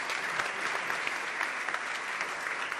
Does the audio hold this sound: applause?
yes